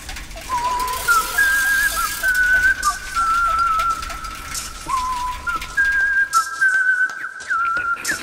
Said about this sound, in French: Entendez-vous cette jolie mélodie? C'est Pitocha qui sifflote